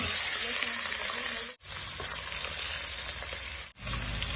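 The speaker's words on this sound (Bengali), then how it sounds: "ইলিশ মাছগুলো এখন আমি ভেজে নেব" Hilsa fish frying in mustard oil in a pan, a steady close sizzle with a brief pause near the middle and another toward the end.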